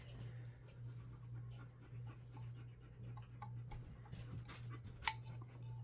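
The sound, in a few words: Doberman dog panting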